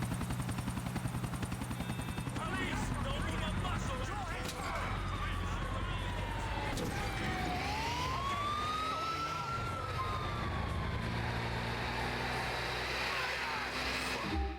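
A police siren wails and sweeps up and down over steady engine and road noise, loud and continuous, with people talking intermittently.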